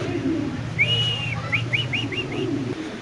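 A black beauty pigeon gives soft calls alongside a short run of clear, rising whistled chirps, close and moderately loud over a low background hum.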